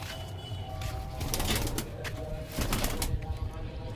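Pigeons cooing close by in a pigeon loft, soft repeated throaty calls over a busy background with occasional rustles.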